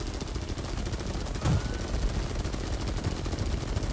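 Aircraft machine guns in War Thunder rattle in a steady rapid stream of shots, loud and continuous, with a heavier burst near the middle and engine drone beneath.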